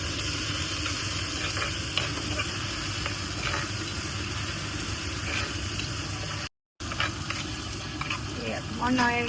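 Curry leaves, onions and chillies fry in a pan and are stirred steadily, with a loud, continuous close sizzle, scraping strokes and a brief cut near the end.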